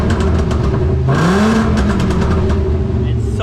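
VW MK4 Golf VR5 engine heard up close under the open hood, idling with a sharp blip of the throttle that rises and falls back to a steady idle, loud and continuous.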